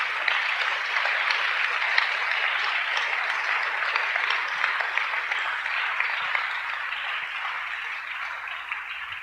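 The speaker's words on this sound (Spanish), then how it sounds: "Dale un gran aplauso a nuestro Rey, por favor." A church congregation at a Sunday service gives sustained applause, a dense, even roar of many clapping hands that holds steady and eases slightly toward the end.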